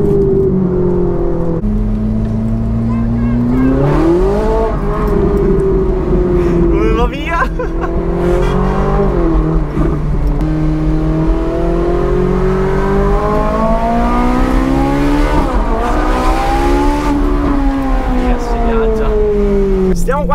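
A Ferrari 458 Italia drives on Italian roads, its engine rising and falling in pitch through repeated acceleration and gear changes, loud and close, while someone talks over it.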